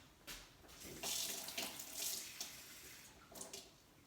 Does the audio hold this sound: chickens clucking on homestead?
no